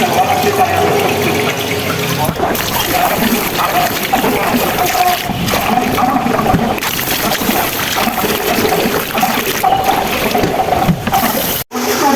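Water pours steadily into a pot of about 1.5 kg of rice set to soak for biryani, a continuous splashing rush that runs the whole time, close and fairly loud, with a brief cutoff near the end.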